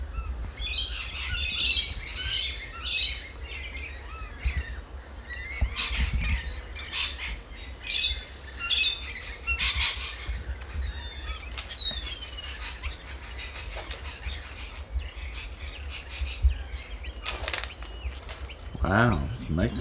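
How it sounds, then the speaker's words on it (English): A magpie squawks repeatedly at an Australian bird feeding spot at Loch Sport, harsh calls mixed with chirps from other birds, fairly close and loud. "this magpie does not want to play nice."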